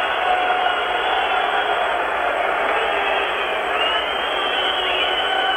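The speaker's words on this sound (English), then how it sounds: "it's awfully hard to hear it with the crowd noise as well as the whistling" A packed Moscow hockey arena during Game 6 of the 1972 Canada–USSR Summit Series roars continuously, with shrill whistling woven through the dense crowd noise and a voice faintly audible underneath.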